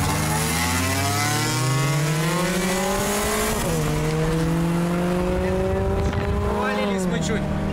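A Kia Cerato 2.0 automatic and a Lada Priora race flat out on a street, engines revving loud and close through rising gear pulls with a shift midway, while occupants talk over the roar.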